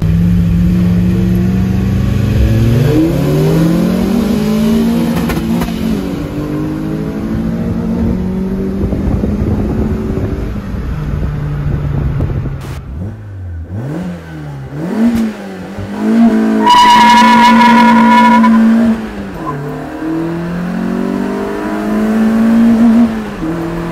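A Peugeot 106 fitted with a swapped 206 1.6 16v engine revs hard and repeatedly, its note climbing and dropping through long sweeps, loud and close, with a brief high-pitched whine midway.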